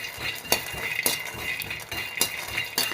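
Raw peanuts fry in a pan while a metal spoon stirs them, giving a few sharp clinks and scrapes over a steady, quiet sizzle.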